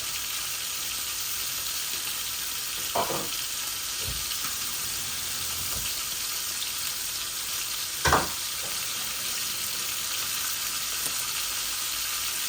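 Three koi fish fry in hot oil, a steady hiss and crackle that runs throughout, with a couple of brief louder pops or spatters breaking through.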